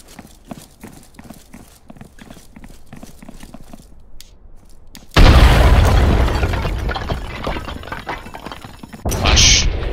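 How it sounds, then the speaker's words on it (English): A frag grenade detonates in a tactical shooter match with a sudden loud blast and long rumbling tail, after a stretch of rapid footsteps; a second burst follows near the end. "Okay, wait for the frag."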